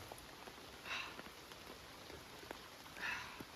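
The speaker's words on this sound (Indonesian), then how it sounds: "ini hujan lagi sedulur ya" Rain falls on a mountain trail on Mount Kerinci, a faint, steady patter with two brief swells of louder hiss and no voices.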